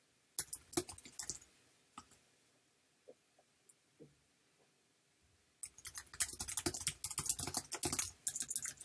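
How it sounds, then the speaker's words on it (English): Fast, close clicking on a computer keyboard during a live esports regional broadcast. Bursts of typing open the clip, a few scattered keystrokes follow in a quieter stretch, then a dense, loud run of typing closes it. "Sorry for my typing here"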